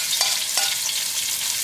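Chopped onion, ginger and green chili sauté in hot oil for a Kerala fish curry. A steady, bright sizzle carries two quick spatula scrapes near the start, with no talking.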